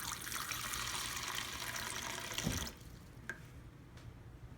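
Water poured into a Zerowater filter pitcher, a steady close splashing stream that runs for a couple of seconds and then stops, leaving a quieter background with a few faint drips.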